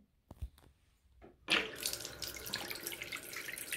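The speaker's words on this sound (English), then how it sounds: "let's see how the water's flowing now." After a few faint knocks, tap water suddenly gushes into a freshly unblocked sink and keeps running steadily down the drain, close and fairly loud.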